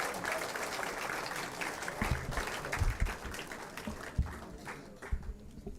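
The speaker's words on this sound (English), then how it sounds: "Let's welcome sir with a huge round of applause." Applause from an audience at a BIMTECH gathering welcoming Tapan Singhel, MD and CEO of Bajaj Allianz General Insurance, heard at a moderate distance with a few louder, uneven claps standing out later on.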